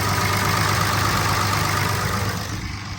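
Old first-generation Dodge pickup with a 318 V8 idling after a cold start, a loud, steady, close engine rumble with no talk over it.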